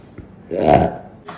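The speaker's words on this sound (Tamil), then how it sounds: "ரொம்ப சத்தமான ஒரு ஏப்பமாக இருக்குது" A single loud, deep burp from a person, a sudden guttural belch lasting about half a second, close up, with brief faint voice sounds before and after.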